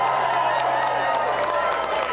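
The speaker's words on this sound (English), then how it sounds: "to raucous applause." Raucous applause fills the room at a White House state dinner, a dense, loud, unbroken wash of clapping and crowd noise lasting a couple of seconds.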